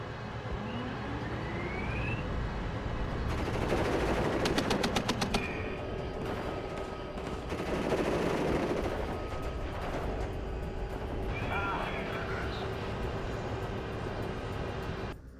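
Rapid bursts of tank and machine-gun fire from M1A1 Abrams tanks in the video game Warno, with heavy rattling volleys around four and eight seconds over a steady rumbling battle backdrop, and no talking.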